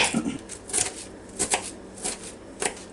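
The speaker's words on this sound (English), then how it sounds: "Get us some onions cut up." Knife chopping sweet onions on a board in about five or six evenly spaced crisp cuts, close and clear, with no talk.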